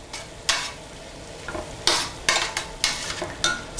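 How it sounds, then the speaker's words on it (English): Kale sizzling in a large pan while heavy tongs stir it, giving a steady frying hiss broken by repeated sharp scraping and rustling bursts at a quick, uneven rhythm, close and alone. "and use a pair of heavy tongs to stir."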